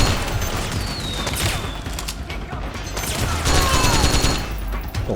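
Gunfire and explosions on a battlefield in the video game Metal Gear Solid 4: Guns of the Patriots, a dense continuous fusillade with crashes and booms, loud throughout with no clear talk.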